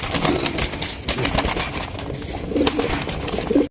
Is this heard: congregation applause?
no